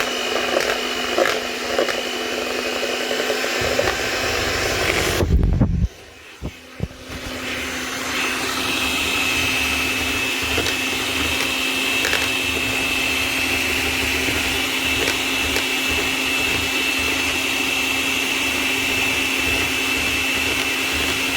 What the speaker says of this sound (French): si vous avez un batteur électrique, vous demandez aux mamans et au papa de le faire